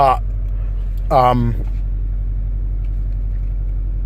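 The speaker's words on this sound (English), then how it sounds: "when I started the engine, I mean, it sounds louder than mine inside" A 2018 Subaru WRX STI engine idles with a low, steady rumble, and a brief rising rev sweeps up near the start before settling back to a constant drone.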